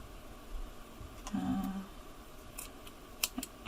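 Scissors snip off the leftover corners of denim fabric while making a fabric rose, giving a few quiet, close cuts with a short pause between them.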